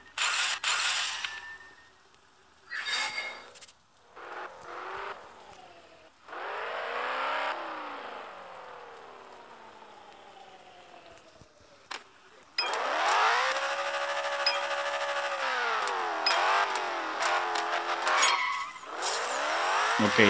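A Nissan GT-R R35 launches in a Need for Speed No Limits race on Android, engine revving up through rising gear shifts, tire squeals, then a sustained loud high-revving run against rival cars, with no talking.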